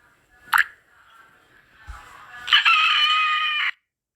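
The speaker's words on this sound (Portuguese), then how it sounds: "Galinha." A rooster gives one loud, close cock-a-doodle-doo crow that swells at the end, preceded by a brief cluck and small clatter, with no talk.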